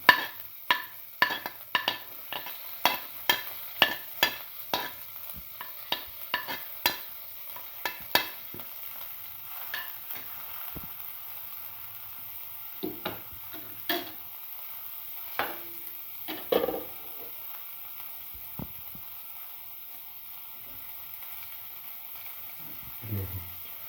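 Fennel seeds with onion and shallot pieces hit a hot pan, followed by a steady soft sizzle broken by a quick series of sharp ticks and scrapes, loud and close at first, then sparser, with no talk.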